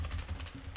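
Typing on a computer keyboard during setup of a local web server login page, a short run of soft, steady key taps sitting in low background hum.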